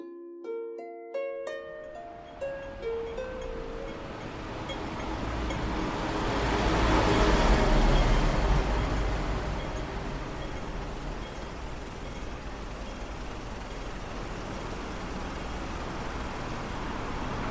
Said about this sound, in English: That is the sound of walking through the streets of Hong Kong at this time in the morning.